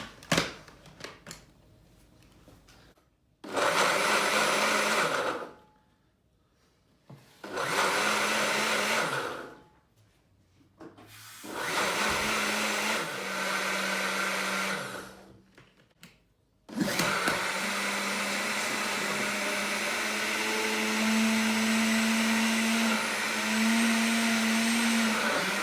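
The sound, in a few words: Ninja blender blending almonds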